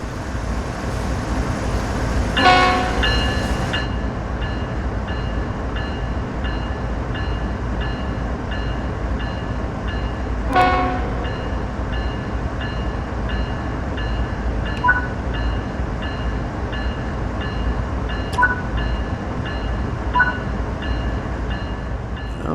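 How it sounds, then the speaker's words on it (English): A GE ES44C4 diesel locomotive hauling heavy intermodal freight in Train Sim World 3 on Cajon Pass, a steady rumbling drone with rhythmic clicking and two louder clanks, continuous and fairly loud without speech. "You'll be using GE ES44C4 locomotives hauling heavy intermodal freight."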